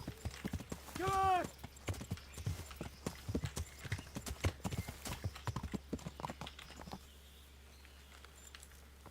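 Horse hooves clip-clop rapidly as a horse arrives in the medieval video game Kingdom Come: Deliverance, with a short whinny early on, the hoofbeats fading toward the end, and a brief spoken word.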